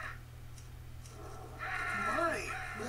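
A cartoon crow caws in the Winnie the Pooh Ready for Math CD-ROM game, a couple of harsh gliding calls rising over background game music.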